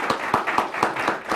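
An audience claps briefly for a guest, a short burst of several distinct, fairly loud claps in quick succession with a roomy, slightly echoing tone.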